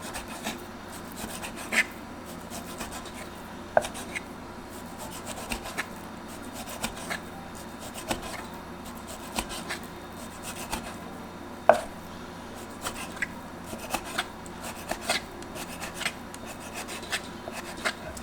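A knife slicing thin, store-bought sliced beef lengthwise for pepper steak, giving soft, irregular chopping taps and rubbing scrapes against a cutting board, fairly quiet and close with no talk.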